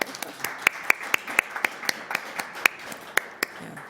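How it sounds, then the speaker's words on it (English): Sparse applause at a Toronto accessibility advisory committee meeting, a handful of people clapping in an irregular, moderately quiet patter for a few seconds. "we're not supposed to applaud, but what the heck?"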